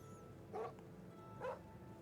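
A dog in a video game gives two short, soft barks about a second apart against a low, steady ambient hum.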